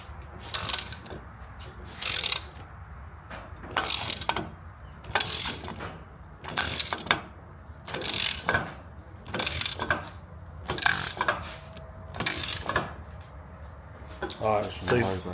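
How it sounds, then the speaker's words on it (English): A hand tool is tightened down on a crimping die for a 1969 Camaro's Vintage Air system, producing repeated bursts of ratcheting clicks at a steady rhythm, close by, with quiet pauses between turns. "the dies fold in and grip like that. See the mark? Those are clocked just right. And I'm gonna let Dylan tighten it on down"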